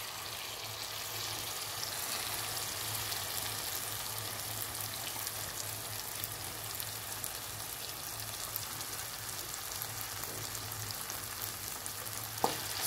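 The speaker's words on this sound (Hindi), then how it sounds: "दाल को भी तकरीबन 3 से 4 मिनट के लिए अच्छे से भूनना है हमने" Urad dal with spices fries in oil, a steady close sizzle like light rain held at even loudness throughout, with a low hum underneath, a sharp clink near the end, and no talking.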